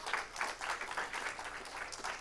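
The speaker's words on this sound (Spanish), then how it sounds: "¿Por qué no le damos un aplauso al Señor por eso?" Church congregation clapping in praise, a dense, steady roll of many hands with a slightly pulsing rhythm, moderately distant and sustained for the whole moment without speech.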